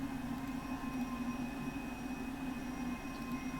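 ScotRail express train rolling in Train Sim World 3, a steady low rumble with a sustained hum, heard from inside the cab on the Edinburgh to Glasgow route, without interruption and with no talking.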